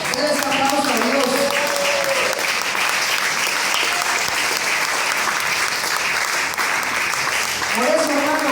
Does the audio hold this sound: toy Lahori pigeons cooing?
no